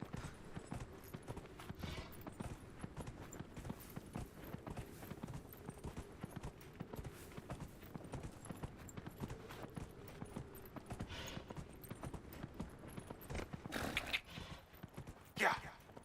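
A horse's hooves clip-clop in a steady rapid rhythm in the video game Dragon Age Inquisition, running close and continuous, with a neigh near the end.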